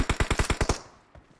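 Rapid burst of about seven automatic gunshots in PUBG Mobile, loud and evenly spaced, then a quick fade and one fainter shot after a short pause.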